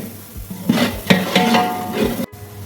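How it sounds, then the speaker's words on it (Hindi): Garam masala spices stir-fried in a large pot for degi haleem, with a close run of scraping, stirring strokes over a soft sizzle and a sharp clatter near the end. "तो इसे अच्छी तरह से भून लेंगे जब तक मसालों की खुशबू नहीं आ जाती।"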